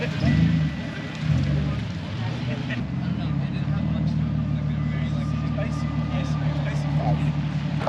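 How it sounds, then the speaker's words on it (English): Cars and engines idling and rolling into a busy evening car meet at a small kebab stall, a steady low rumble of motors filling the scene under ongoing talk from people nearby. "there are plenty of cars rolling in"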